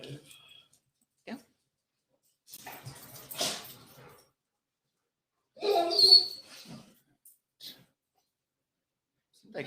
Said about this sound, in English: My girlfriend's best friend's dog.